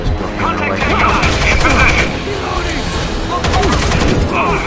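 Rapid, overlapping bursts of close gunfire from the tactical shooter Rainbow Six Vegas 2 crackle almost nonstop, dense and loud throughout the brief stretch.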